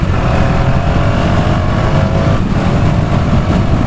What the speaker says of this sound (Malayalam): ആക്സിലേറ്റർ ഞാൻ ബ്ലിപ്പ് ചെയ്തു, എന്നിട്ട് ഗിയർ ഡൗൺ ചെയ്തു.